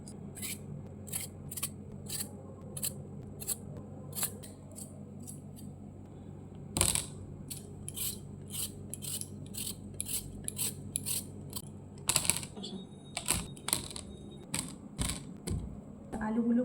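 A knife cuts peeled potatoes into pieces, making crisp, close, rhythmic clicks against a board with a few heavier knocks between them.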